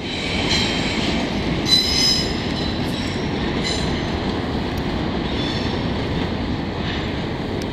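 CN freight trains rolling through a Montreal rail yard, with a continuous low rumble of cars and wheels and repeated high metallic wheel squeals rising over it, fairly close and steady.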